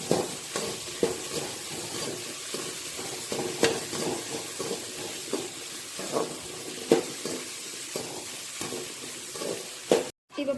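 Onions sauté in a pan as the base for a fish curry, a soft steady sizzle broken by frequent stirring knocks and scrapes, fairly quiet overall.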